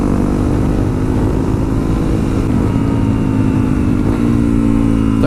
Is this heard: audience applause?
no